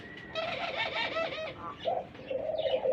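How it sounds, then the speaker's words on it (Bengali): Rasgolla pigeons at a Bangladeshi pigeon farm coo in repeated rolling calls, several birds overlapping close by, with brief pauses between bursts. "এখানে আরেক জোড়া রাসগোল্লা কবুতর আছে দেখেন"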